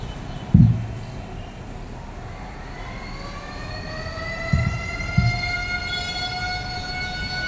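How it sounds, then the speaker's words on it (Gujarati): A distant civil defense siren slowly winds upward in pitch and sustains a steady wail, with a few low thumps in the foreground. "હું સિંગલ સાયકલમાં સાયરન મળશે અને પેલામાં ડબલ સાયકલમાં સાયરન મળે"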